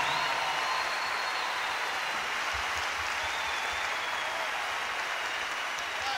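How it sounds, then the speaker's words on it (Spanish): An audience applauds Venezuelan symphony orchestra musicians, a dense, steady wash of clapping from a crowd that continues evenly throughout. "Yo quiero que me le den un aplauso a estos músicos venezolanos que componen esta orquesta sinfónica."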